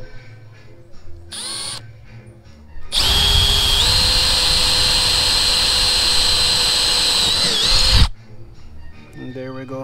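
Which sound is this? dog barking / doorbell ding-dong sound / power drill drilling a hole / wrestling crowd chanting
power drill drilling a hole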